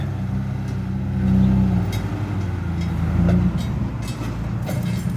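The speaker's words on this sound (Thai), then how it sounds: "โอ้โห รถไถยกล้อไปเลย" A farm tractor at a competition, its engine revving hard as it lifts its front wheels: a loud, deep, continuous engine roar that swells twice, near and alone with no talk.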